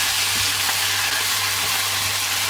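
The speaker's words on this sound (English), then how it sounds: "We keep stirring so it doesn't burn." Eggplant pieces fry in a pan with salt, giving a steady, even sizzle close by and a constant hum underneath, with no distinct stirring strokes.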